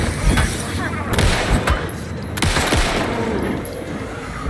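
Gunfire in the video game Alan Wake II: a quick series of loud, close shots and booming impacts with reverberant tails during a fight, a voice speaking over part of it.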